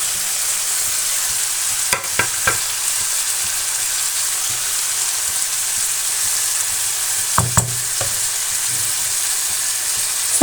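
Capsicum and potatoes fry in a pan, sending up a loud, constant sizzle with occasional sharp stirring clatters of a spatула, clustered near the middle and end.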